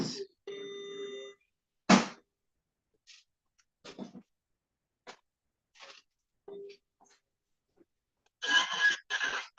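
A telephone ring tone on an outgoing call, steady harmonic bursts of ringback repeating near and clear, separated by short clicks and faint sounds, with voices talking toward the end.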